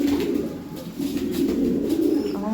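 Domestic pigeons coo softly in a loft near their nests, a low, rolling, continuous murmur close by with no talk.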